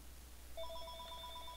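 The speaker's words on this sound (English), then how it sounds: "It's like the phone's ringing." Faint, repeated electronic ringing from a telephone in the Pokemon Mystery Dungeon Explorers of Sky video game, a quick string of high pulsing tones starting after a short pause and continuing to the end.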